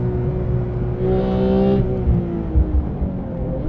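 A Porsche 991.2 GT3 on track delivers a steady, close engine drone from inside the car, rising briefly in pitch as throttle builds, with some low thumps from the road.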